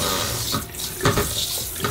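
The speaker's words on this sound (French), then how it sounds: "on peut changer vraiment très facilement le débit de l'eau" Water runs steadily from a retractable, swivelling kitchen faucet in a Tokyo apartment, a close, continuous rushing splash into the sink with slight shifts as the flow changes.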